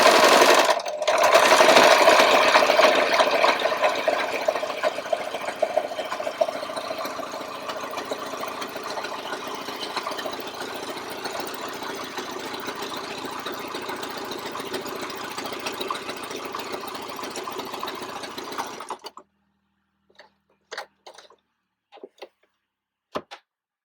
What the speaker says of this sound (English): So when you start sewing, you need to keep the needle 3/8 of an inch in from the edge.